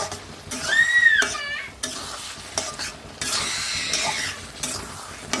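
A spoon stirs fenugreek powder through a batch of pickle in a metal vessel, with scraping and clinking strokes, a brief ringing metallic tone early on, and fainter mixing sounds continuing close by.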